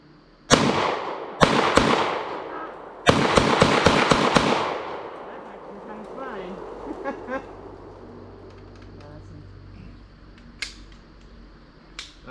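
A pistol fitted with a stabilizing arm brace fires several loud, sharp shots nearby: two single shots, then a quick burst of about five, followed by quieter handling noise and speech.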